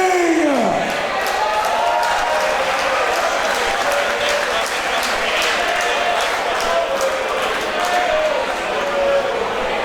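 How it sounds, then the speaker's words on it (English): A crowd at a white collar boxing event in Norwich applauds loudly for a local legend entering the ring, sustained clapping with scattered cheers and shouts filling the hall, voices mixed in throughout. "Give him a round of applause"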